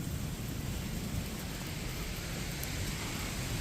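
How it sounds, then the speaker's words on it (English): Steady, dense hiss of heavy rain pouring down during a strong storm, constant and enveloping with no voices. "it's starting to pour right now"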